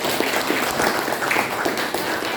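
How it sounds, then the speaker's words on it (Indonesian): A classroom claps for a student named Farhan, a dense patter of many hands lasting a couple of seconds, steady and fairly close, with no talking over it. "Oke, tepuk tangan buat Farhan."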